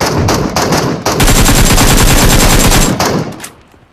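Rapid automatic gunfire from the mobile battle royale game PUBG Mobile crackles in loud, close bursts: a few separated shots, then a sustained stream of fire that cuts off and fades away near the end.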